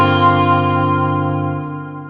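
A guitar through a Strymon Nightsky reverb pedal with the Glimmer lower harmonics engaged rings out as a single sustained, dense chord with layered tones, slowly fading over about two seconds, close and alone.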